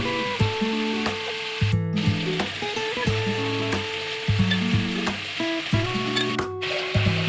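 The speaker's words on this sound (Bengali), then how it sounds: "যেই তেলে মাছের মাথাটা ভাজা হয়েছে সেই তেলে 5 ফোড়ন দিয়ে মিষ্টি কুমড়া দিয়ে দিব" Sweet pumpkin pieces frying with five-spice tempering in oil that earlier fried a fish head, a continuous crackling sizzle with rhythmic spatula scrapes and knocks against the pan throughout.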